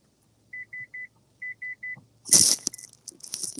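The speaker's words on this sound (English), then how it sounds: "Who making that sound? That's my car, bro." A car's electronic beeps sound in two quick groups of three evenly spaced tones, followed by a loud burst of noisy clatter.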